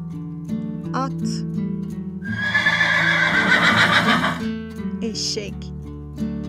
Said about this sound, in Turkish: At.